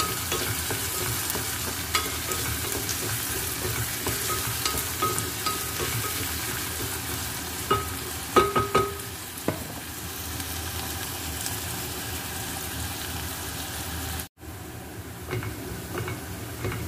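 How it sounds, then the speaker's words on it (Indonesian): Shallots fry in a pan with continuous sizzling, and a few clinks and scrapes of stirring break in midway, followed by a brief dropout near the end. "Ini bawang merahnya aku pomes dulu ya, biar warnanya kuning kecoklatan."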